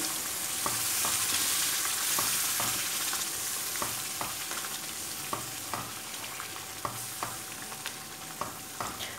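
A spoon scrapes steadily through semolina halwa cooking in ghee with milk, regular stirring clicks over a continuous sizzle, close up with no talking.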